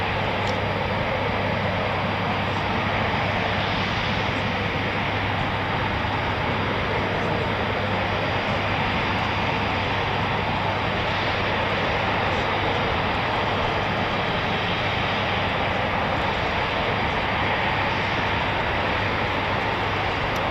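Eurofighter Typhoon FGR4 jets of 12 Squadron departing RAF Coningsby, a steady broad roar of jet engines held loud throughout, with no clear rise or fade.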